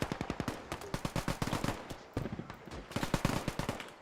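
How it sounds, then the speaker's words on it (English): Heavy machine gun firing in a Vietnam War real-time strategy video game, rapid bursts of sharp, punchy shots in dense rhythmic volleys with a brief pause midway, loud and close. "That's a heavy machine gun as well."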